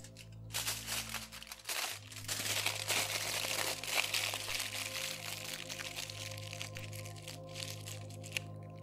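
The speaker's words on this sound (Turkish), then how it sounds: "bu kırdığınız parçaları ayrı bir folyo içerisine bırakıp kapatın" Aluminium foil crinkles and crumples as broken pieces are wrapped, a continuous close rustle with small crackles and no talk.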